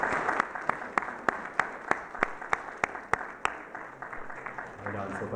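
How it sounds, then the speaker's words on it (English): Audience applauding to honour the Shai Tepetat at the 17th Annual Treaty 4 Education Conference, with a few sharp, slow, distinct claps over a soft murmur of crowd clapping and voices that trails off. "Round of applause for the Shai Tepetat."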